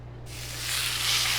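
Birria tacos frying in a pan, a brief hissing sizzle that starts quietly and rises in loudness over about a second. There is low background hum and no talking.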